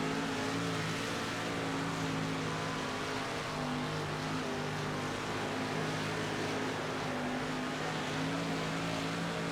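Dirt race cars in the World of Outlaws dirt racing video game, a constant loud engine roar with steady pitch from a pack of cars running close together, with no voices.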